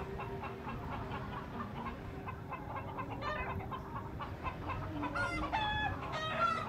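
Chickens and roosters cluck and squawk nearby during a ferret attack, over a steady low background hum, the calls growing busier and louder toward the end.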